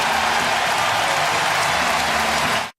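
A baseball stadium crowd roars in a dense, sustained wash of cheering and clapping as the Giants take the lead, steady and loud until it cuts off abruptly.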